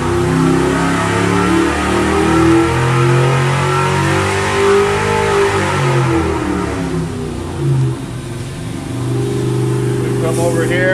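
An engine revs on a dyno, climbing from 3,000 to 6,000 RPM in a steady, loud sweep that rises and then settles into a sustained roar near the end.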